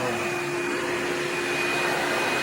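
Hoover PowerDrive Supreme upright vacuum cleaner fitted with a HEPA bag runs at a steady, loud whine with a constant airy roar, close by and uninterrupted.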